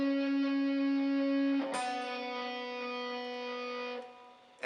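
Straight, sustained electric guitar notes held steady without pitch wobble: one note rings for about a second and a half, then a new pick attack starts a second steady note that sustains and fades, with no voice.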